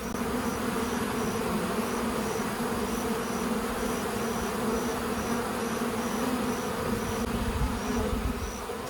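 A small honeybee swarm being caught gives a steady, dense buzzing close by, continuous and fairly loud for the whole stretch with no talk over it.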